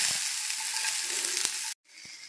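Three large onions sliced lengthwise frying in hot oil for Hyderabadi chicken biryani, giving a loud, dense, steady sizzle close by, with a brief cut to silence before the sizzling resumes.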